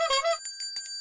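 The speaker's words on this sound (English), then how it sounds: "The bells got louder" Bright, ringing bells serve as a sound effect in a children's read-aloud of a pirate puppy story, with about four quick metallic strikes that chime and fade one after another.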